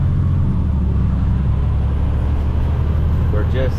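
A gravel-loaded truck pulls away from a quarry with a heavy, steady low rumble that stays loud and close throughout, with no break in the engine noise.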